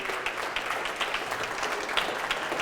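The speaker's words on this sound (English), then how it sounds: "So round of applause to yourselves" Dinner audience of investors at an information dinner giving a round of applause, a dense continuous patter of many hands clapping, fairly faint and distant in a room.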